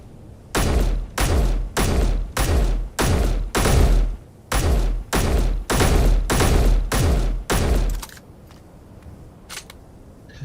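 Gunfire in the Space Engineers video game: a steady run of about a dozen loud, evenly spaced heavy blasts, each with a short tail, then the shooting stops and leaves a quiet hum with a few faint knocks.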